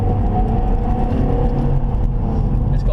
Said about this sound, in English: You know you're sitting in a diesel and you can hear it kind of you know, thudding away